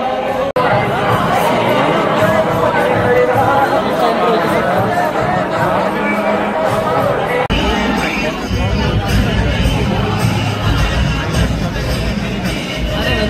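Dense crowd in the darshan queue at Dagdusheth Ganapati temple in Pune, a loud, continuous babble of many overlapping voices close by, with a brief shift in the noise partway through.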